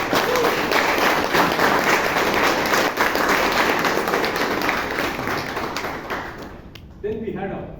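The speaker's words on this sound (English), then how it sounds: "can we give a loud round of applause?" A room of attendees at a Toastmasters club meeting in Bangalore applauds with dense, sustained clapping that gradually fades and stops near the end, followed by a short bit of speech.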